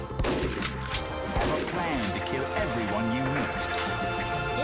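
Gunfire in a video game set in Australia, a string of sharp shots early on followed by clanging, crashing game effects and music, with a voice talking over the mix.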